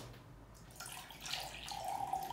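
Water is poured into a cup for a homemade lava lamp experiment, a soft, steady splashing trickle that builds slightly over a couple of seconds, with no talking.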